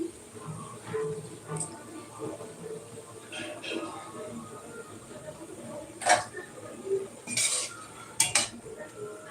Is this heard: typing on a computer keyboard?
no